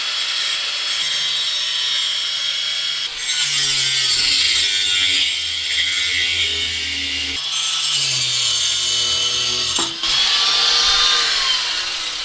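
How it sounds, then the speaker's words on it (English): An angle grinder cuts through rusted car exhaust bolts, a loud, sustained high-pitched shriek with brief breaks where the disc pauses and then bites back into the metal, no talking. "So I'm gonna have to cut these bolts off"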